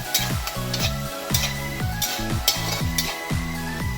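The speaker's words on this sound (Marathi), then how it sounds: "आता ह्याच्यामध्ये मी 2 चमचे कसुरी मेथी घातलेली आहे आणि व्यवस्थित मिक्स करून घेतलेली आहे।" Spices and kasuri methi sizzle in a pan while being cooked for an aloo matar dish. A steady frying hiss runs under repeated rhythmic stirring and scraping strokes, close and unaccompanied by talk.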